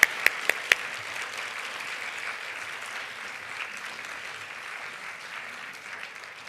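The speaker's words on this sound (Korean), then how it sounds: "조금 더 박수 쳐주세요" A church youth congregation applauds in a steady, moderate wash of clapping at a New Year's Sunday service, with a few sharp nearby claps at the start.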